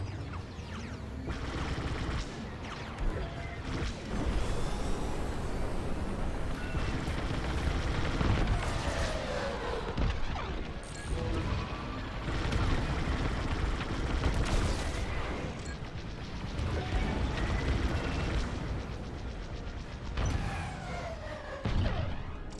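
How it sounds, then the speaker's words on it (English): Dense, continuous space-combat barrage in Star Wars: Squadrons, many turrets firing rapid laser bursts at a corvette, loud and sustained with overlapping shots, sweeping tones and explosions throughout, no talk. "They have like a billion turrets shooting at them"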